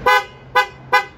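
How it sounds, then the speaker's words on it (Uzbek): A Malibu car horn fitted to a Chevrolet Cobalt gives three short, loud, evenly spaced honks, each a bright, brassy blast, close by and with no talking. "Hozir signal chalishni ko'rsataman mana. Malibu signal."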